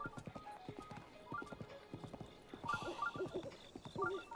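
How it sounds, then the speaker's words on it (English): A horse gallops at a steady pace in the Zelda Breath of the Wild video game, its hooves clip-clopping in a quick, even rhythm under soft chiming game music. "To ride this horse."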